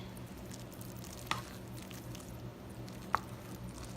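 Rice being stirred in a pan with melting butter, a steady soft sizzle with two sharp scrapes of the spoon against the pan.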